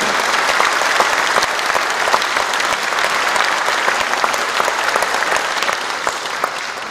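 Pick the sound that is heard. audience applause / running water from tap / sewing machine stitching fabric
audience applause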